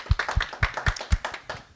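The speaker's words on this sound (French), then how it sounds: "Applaudissez-la." A few people clap in a steady, fairly loud rhythm after a woman is introduced to read a text at a cultural event, each clap distinct and close, with no talk over it.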